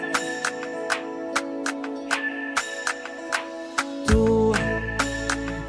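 Reggaeton band plays a new song: a sparse rhythmic pattern of bright percussive hits over sustained tones, then a deep bass enters about two-thirds through and fills the low end, with no vocals yet.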